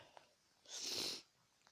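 One sharp nasal sniff from a person with a cold, a brief airy snort-like intake close to the microphone, surrounded by quiet background.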